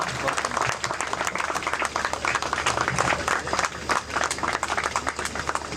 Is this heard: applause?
yes